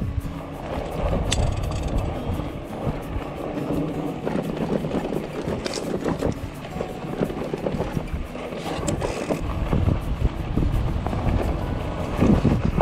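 Wind in the Australian outback rushes and buffets steadily across the microphone, a continuous rough roar with uneven gusts that swell louder toward the end.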